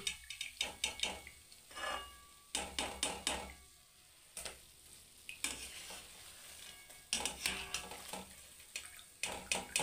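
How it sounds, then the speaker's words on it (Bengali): Fried kheer patties are dropped one by one into sugar syrup, each drop bringing a bubbling hiss and clatter. The sounds come in several separate bursts at close range, with quiet gaps between them. "এবার এগুলো আমি রসে ফেলছি"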